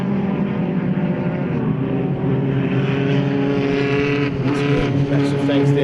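Formula Vee race cars on track at the 2022 Red Star race, braking hard for the turn 6 hairpin, give a continuous loud droning engine note with shifting pitch, close by and steady throughout.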